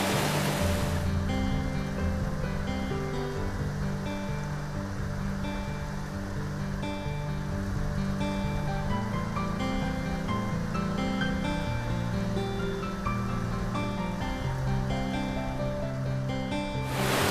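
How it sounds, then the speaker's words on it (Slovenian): Water of the Sopotnica river pours over waterfalls and cascades in a steady, loud, unbroken roar that fills the whole stretch, with a dense tonal layer running underneath. "Vodopadi i slapovi Sopotnice nastaju usled velikog uzdužnog profila reke Sopotnice."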